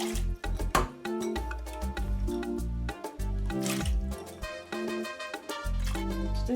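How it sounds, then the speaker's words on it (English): Soft cooked beans, about a cup, tipped into a pot of simmering rice and water for red rice, giving close, wet squishing and dripping plops with no talking. "So I'm going to add all my beans."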